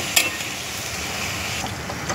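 Onion and green chili sautéing in hot oil for egg bhurji, a steady, moderate sizzle with a few sharp crackles and spoon stirs, close and with no talking.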